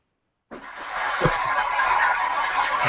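Chickens cluck outside a window, breaking in suddenly after a half-second of silence and continuing as a steady, noisy flurry of fowl calls with one sharper peak.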